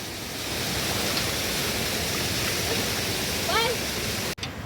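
A hot spring stream in Chiplun, Konkan gives off a steady, even rush of flowing water close by, with a brief bird-like chirp and a short break near the end.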